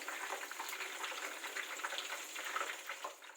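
Chicken fries in hot oil for a Delhi Jama Masjid-style chicken fry, a faint, close, continuous crackle and bubbling sizzle with no voices.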